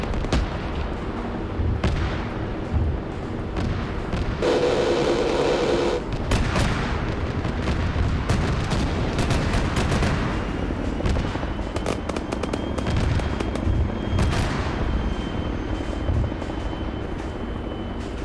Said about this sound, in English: Hey, you see autocannon rounds coming through.